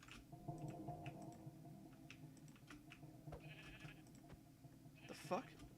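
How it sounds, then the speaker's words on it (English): Sheep in a Minecraft mod game give short bleats among game sound effects and someone talking, faint and scattered, with one louder bleat near the end. "Where are you, Senor Sheep"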